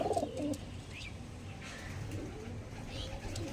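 Several purebred Malbahi pigeons at a loft sale coo in soft, low bursts, with a cluster near the start and more scattered coos through the rest, against steady background noise and faint chirps.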